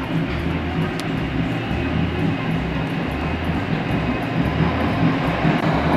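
An LRT Line 2 light rail train in the Philippines rumbles along steadily from inside a carriage, with a low continuous roar and rhythmic rail clatter; a brief click sounds early on.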